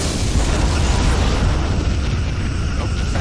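Explosion of a destroyed Klingon ship in the space combat game Star Trek Legacy: a dense, rumbling roar that fills the whole clip at steady loudness, with no distinct separate blasts.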